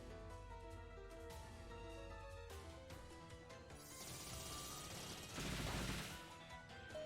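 A Mirror Shot attack in the Pokémon Sun & Moon video game, a bright metallic burst and crackle of game effects rising over steady background game music, swelling loudest near the end.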